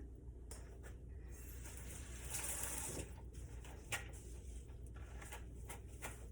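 Fresh cilantro is rinsed under a running kitchen tap, a soft steady stream of water with faint splashing and handling sounds, quiet and continuous.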